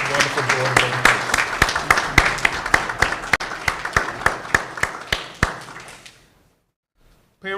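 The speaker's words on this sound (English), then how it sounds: "please give them a round of applause" An audience at a public schools board meeting claps for the Board of Education, with dense applause and a few sharp individual claps standing out, lasting about six seconds before cutting to silence.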